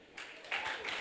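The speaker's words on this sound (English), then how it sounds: "So let's clap hands again." An audience at a 2009 school debate event claps hands, a brief burst of applause lasting about a second, moderately faint and heard from the crowd.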